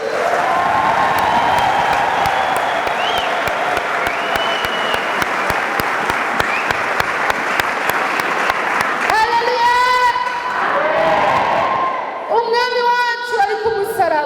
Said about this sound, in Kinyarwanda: turashaka kuyikomera amashyi